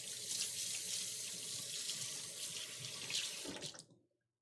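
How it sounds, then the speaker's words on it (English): Kitchen tap water runs in a steady rushing stream while hands are rinsed beneath it, close and continuous, then stops abruptly near the end. "I'm going to give my hands a quick rinse."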